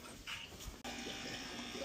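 Water pours steadily from a hose or tap into a home fish tank during cleaning, a continuous rushing splash with a brief break near the middle.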